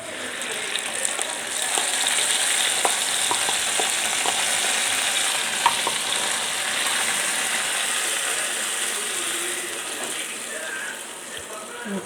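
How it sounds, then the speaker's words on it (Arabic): Spices sizzle in hot oil for a tempering poured over Egyptian bessara, a steady bright crackle with scattered sharp pops, close and fairly loud throughout. "الطشه لما نحطها بقى تعمل ريحه وتعمل تش كده تبقى حلوه"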